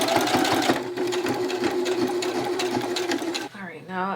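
A sewing machine stitches a bag in a fast, steady mechanical whir with a rhythmic needle clatter, close and loud. It stops abruptly near the end, and a voice speaks briefly afterward.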